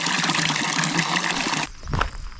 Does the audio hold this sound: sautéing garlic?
no